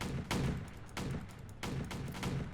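Rapid bursts of gunfire from the video game Home Wars, several loud volleys in quick succession with brief gaps between them, close and dense, no talk over them.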